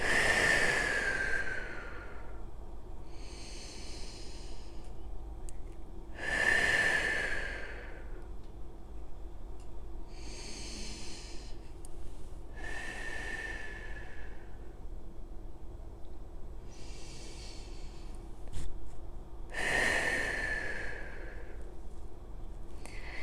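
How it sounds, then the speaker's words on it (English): Slow, deep breaths during a whole-body flexibility stretching routine: long hissing exhales recur about every six to seven seconds, close and clear, with quieter inhales between. "we're going to do those 6 deep breaths again"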